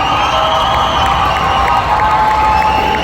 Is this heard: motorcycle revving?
no